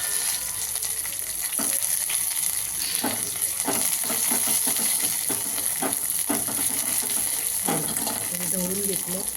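A spiced mixture of curry leaves, green chili and coriander frying in a pan for dahi toast, with steady sizzling and hissing broken by several distinct stirring scrapes at irregular intervals, close and fairly loud.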